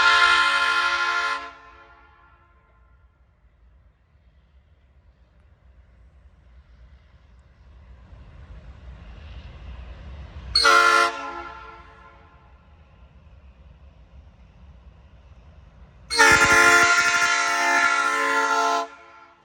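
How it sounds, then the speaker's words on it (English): A Nathan P5 horn on a train sounds loud and close at a Greenville, South Carolina grade crossing, in three harmonic blasts: a long opening one, a short sharp one, then a final sustained blast, with rumbling between. "I was greeted by the loudest P5 horn I've ever heard."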